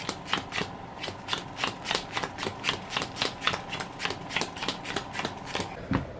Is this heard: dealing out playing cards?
yes